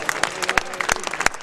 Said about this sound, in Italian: Allora fatevi un applauso, un pubblico favoloso